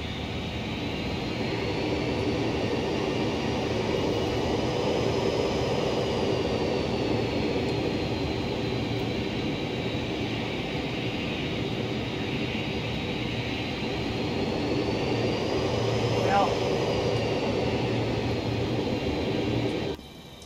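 A Boeing 737-200 twinjet taxis a little fast in a flight simulator game at Stuttgart, its jet engines giving a steady, loud broadband roar with a faint whine that rises and falls, continuous throughout and without speech.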